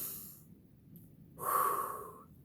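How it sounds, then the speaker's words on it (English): A single deep inhale taken during an arm and muscle exercise, a short airy breath drawn in close to the microphone, quiet and alone after a brief pause. "As you're coming in, deep breath in."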